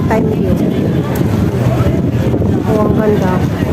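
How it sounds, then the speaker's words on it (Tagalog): Strong wind buffets the microphone at night outdoors near the K11 Musea mall in Tsim Sha Tsui, a steady loud roar with low rumble, and voices faintly underneath. "Ah, lakas ng hangin."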